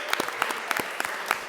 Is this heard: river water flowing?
no